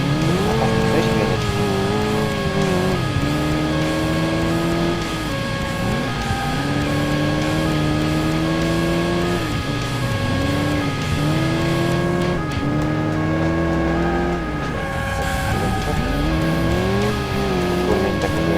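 Car engine revving in the Crash Time 3 racing game, steady loud whine rising and falling with gear shifts, with tire squeals, a voice talking briefly over it.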